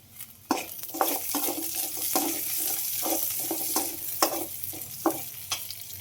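Garlic sizzling in hot oil in a pan for chicken gravy curry, a steady close frying hiss broken by regular scraping strokes of a spatula stirring.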